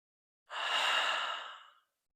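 A single long, full breath exhaled out of the mouth, close and soft, an airy whoosh lasting over a second that fades gently to silence.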